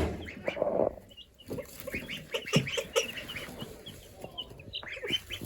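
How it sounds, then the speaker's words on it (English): Ducklings peep and chirp in quick, overlapping bursts, with a few soft quacky calls mixed in, close by and fairly quiet. "Starting to make a little quacky sound."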